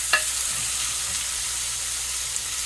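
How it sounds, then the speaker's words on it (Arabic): Tomatoes frying with onion, garlic and green chili for a Yemeni fahsa, a steady soft sizzle with a light scrape of stirring near the start, close and alone. "نستمر بالتحريك، أهم شيء التحريك"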